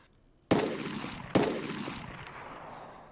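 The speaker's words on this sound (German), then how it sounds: "Ich muss schießen." Two sharp gunshots ring out in the DayZ video game, the first about half a second in and the second just under a second later, each loud and close with a long decaying echo.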